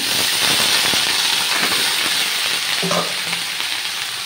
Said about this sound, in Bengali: ফোড়নে দিয়েছি 5 ফোড়ন আর একটা শুকনো লঙ্কা, তো তেল দিয়ে নিলাম